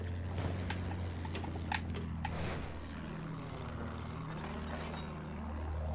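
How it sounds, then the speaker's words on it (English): Hoofbeats of a horse galloping in a battlefield video game, a steady clip-clop rhythm over a constant engine-like drone and scattered distant bangs, close and fairly loud throughout. "Okay, my horse can't jump over rocks."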